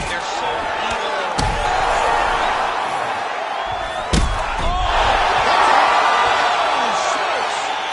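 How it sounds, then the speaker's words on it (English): A video game crowd in UFC 5 roars and cheers after a knockout ends the fight, a dense broad wash of arena noise that swells steadily, punctuated by two sharp impact slams. "Yeah, man, crowd loving it."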